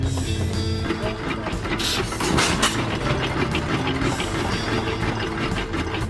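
Old hit-and-miss gas engines running at an outdoor gas engine show, a dense, loud mechanical clatter with steady rapid ticking and chugging throughout.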